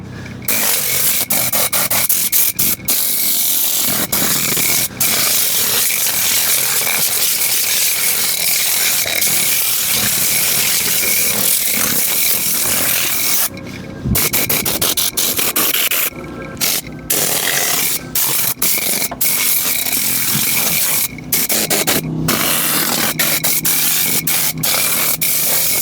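A compressed-air blower runs steadily while blowing out a car interior during mobile detailing, a loud close continuous rushing hiss with a few short breaks and clunks as the nozzle moves around.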